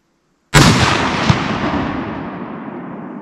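A single loud rifle shot of 6.5 Creedmoor, Norma 156gr Oryx ammunition, fired at an outdoor range for an expansion test, booms with a sharp onset and a long rolling echo that fades slowly.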